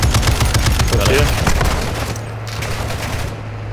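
Dense automatic gunfire from Warzone DMZ: loud, rapid bursts crackle close by, then thin out into a rumbling tail. Voices of players are mixed in underneath.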